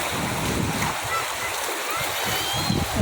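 A strong river current rushes and splashes steadily in a broad, noisy roar, close and loud, with a voice speaking briefly over the flow.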